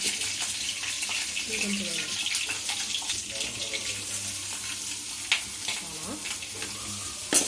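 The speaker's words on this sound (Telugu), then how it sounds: "మనం ఆనియన్స్ వేసుకోబోతున్నాం" Onions are frying in a pan with cumin and mustard seeds for tomato pasta, giving a steady close sizzle with occasional clinks and light stirring noises, and a voice speaks faintly underneath.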